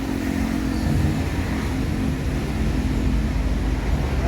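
A Handoyo bus on an Indonesian road passes as a loud, steady low engine rumble with continuous road and traffic noise, heard close and without talking.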